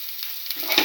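Garlic and beef liver sautéing in a pan, a soft, close hiss of frying with a light stirring scrape building near the end of a brief moment.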